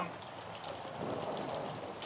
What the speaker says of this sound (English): Is that real rain?